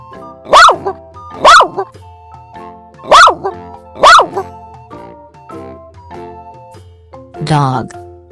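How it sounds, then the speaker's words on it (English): Four sharp dog barks in an uneven rhythm, loud and close, followed by a brief spoken word, with soft background music throughout. "Dog."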